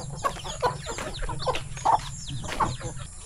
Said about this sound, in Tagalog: ang babait ng mga manok dito sa probinsya.